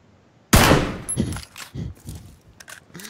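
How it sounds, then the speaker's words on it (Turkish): Gunfire strikes a frying pan in a video game: a sharp loud crack opens a short burst of shots and ringing impacts that fades into scattered thumps over a few seconds. "tavaya sıkıyorum."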